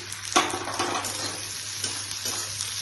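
White sesame, melon seeds and peanuts frying in a pan make a dense, close sizzle with stirring scrapes and a sharp clink near the start, steady throughout with no talk.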